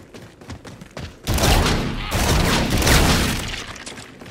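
Video game gunfire from Call of Duty Infinite Warfare Zombies on Xbox One: a few sparse shots, then a sudden, sustained burst of rapid fire with crashing impacts that stays loud to the end.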